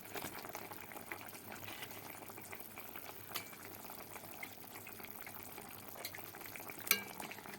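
A bitter fish curry broth of bata fish simmers in a pot with a soft bubbling burble. Occasional faint clinks and a brief knock near the end break the quiet, close sound, and there is no speech.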